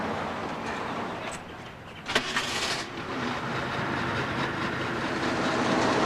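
An old used car with worn tires starts up, giving a sharp crank burst followed by a steady, fairly loud idling rumble with a faint mechanical hum that continues to the end.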